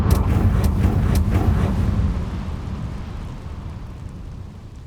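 A Confringo fire spell blasts in Hogwarts Legacy, a loud explosive burst with a couple of sharp cracks up front, then a deep rumbling roar that slowly fades away, with no voices.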